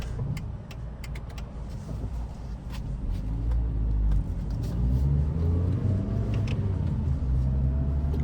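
A Dodge Caliber 1.8 MPI drives on the highway with a continuous close cabin rumble of engine and road noise that builds slightly as it speeds up, with a few faint ticks over it.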